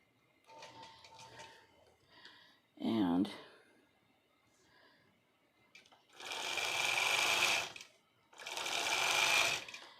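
Quilting machine stitching a quilt, two loud sustained rapid whirring runs of stitching in the second half, preceded by soft handling noises and a brief voice.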